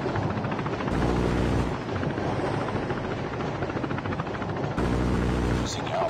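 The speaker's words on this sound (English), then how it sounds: "Deploying chopper gunner." A chopper gunner helicopter from Call of Duty Mobile roars with a loud, continuous rotor thrum throughout a Domination match, steady and dense with brief intensity shifts.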